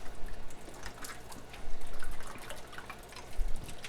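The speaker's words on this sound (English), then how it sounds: "So just wash them in hot soapy water" Canning jars get washed in hot soapy water at a kitchen sink, with running water splashing and the jars clinking and knocking in irregular bursts.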